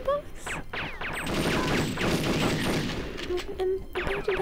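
Gunfire in Perfect Dark on the Nintendo 64, a dense run of rapid shots and impacts continuing for several seconds, loud and close, with a voice speaking over the start and end.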